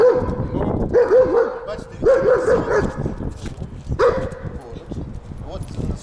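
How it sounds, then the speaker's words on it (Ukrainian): A Malinois dog barks repeatedly in short, loud bursts close by, while a person talks over the barking. "собака гавкає"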